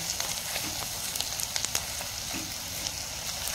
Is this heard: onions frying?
yes